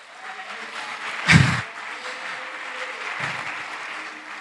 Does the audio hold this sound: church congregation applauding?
yes